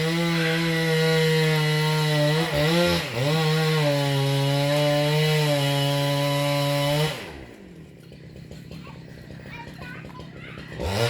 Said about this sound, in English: we've got some trees the palm tree being chopped down over there, so that's gonna make it a bit difficult for you to hear